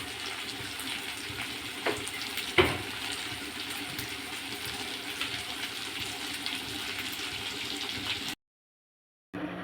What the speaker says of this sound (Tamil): இதை வந்து பார்த்திங்கன்னா கொஞ்சம் எண்ணெய் ஊற்றி அதை ஃப்ரை பண்ணிடலாம்